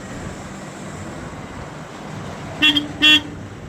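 Two short car horn honks, close together near the end, over steady outdoor background noise on a hilly road in rainy Maharashtra with vehicles climbing and descending slowly.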